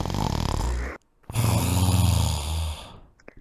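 A voice imitates an old man's surprisingly loud snoring: two long, rasping, close snores separated by a short silent breath, the second trailing off into quiet.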